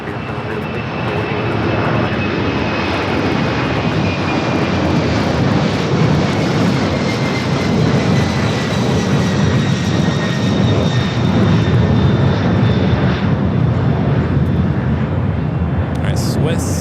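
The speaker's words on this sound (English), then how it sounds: "Are we doing that UPS 767 rolling it down at 25 left," A UPS Boeing 767 jet takes off from runway 25 left at Los Angeles International Airport, giving a loud, continuous engine roar with a rumbling low end and a thin whine. It holds steady and close for the whole stretch, with no talking.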